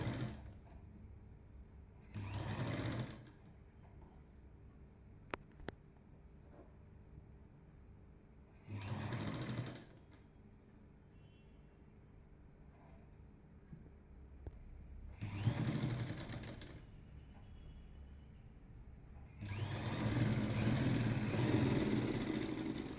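A sewing machine stitches the side seam of a 40-inch lined jacket in four short separate bursts, each a few seconds long, with quiet pauses between them. The last burst is the longest.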